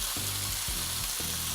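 Ingredients stir-frying in a pan with a dash of soy sauce, a steady sizzle broken by a few quick stirring scrapes, brief and close, no talking.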